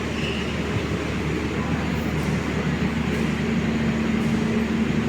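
Station ambience beside the Batavia and Logawa trains, with a steady low rumble and hum of idling rolling stock that holds evenly, plus a faint high whine running through it.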